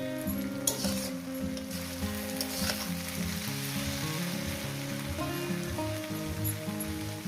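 Small river fish frying with Malabar spinach in a pan, a steady close sizzle that runs without a break, with a few faint stirring clinks and no talk.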